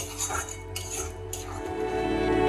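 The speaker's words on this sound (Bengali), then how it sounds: "এবার ভালো করে মশলাটা কষিয়ে নেব" Korma spice paste stirred and roasted in a wok, a low steady sizzle with a couple of bright metallic spatula scrapes and clinks, close and fairly loud.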